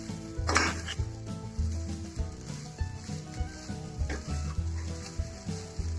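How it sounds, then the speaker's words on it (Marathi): Sago pearls are stir-fried in a pan, with repeated spatula scrapes and clinks against the metal over a soft sizzle, in an uneven rhythm close by. "आपण चांगल्या प्रकारे साबुदाण्याला इथे परतून घेऊया"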